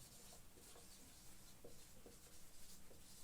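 Hand writing on a board in a classroom lesson, soft faint scratching strokes in short irregular bursts over a steady background hiss.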